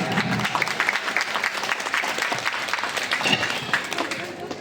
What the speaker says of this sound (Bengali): আমরা সুজিত বাগচির জন্য একটা জোরে হাততালি চাই